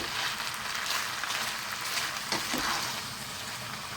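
Chicken escalope stir-fry being reheated in a wok gives off a steady, close, crackling sizzle that holds at an even level throughout, with no one talking.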